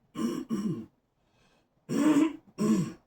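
Someone clears their throat close by in four harsh, gravelly bursts: two quick ones, a short pause, then two more.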